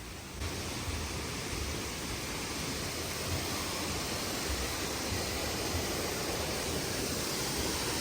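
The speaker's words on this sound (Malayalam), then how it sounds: "ഇവിടെ മനോഹരമായൊരു വെള്ളച്ചാട്ടമൊക്കെ ഉണ്ട്" A steady, dense roar of falling water at Ripple Waterfalls fills the scene, constant and close, with no voices.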